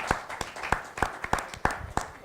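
Clapping at a national tourism forum panel, heard as a short run of about seven distinct, evenly spaced claps in a steady rhythm, fairly close and clear, with no talking over them.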